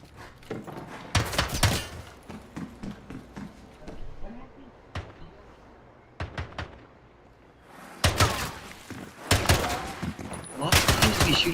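Bursts of automatic gunfire in an e-sports video game scrimmage, loud repeated volleys in clusters with quieter single shots between, heaviest toward the end.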